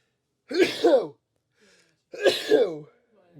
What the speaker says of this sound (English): I have a sneeze coming.